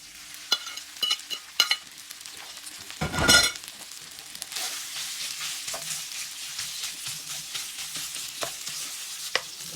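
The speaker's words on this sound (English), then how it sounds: "we stir fry the meat" Meat stir frying in very hot oil flavoured with cashews, a steady sizzle with scraping stirs and one loud burst of frying, close and continuous with no voices.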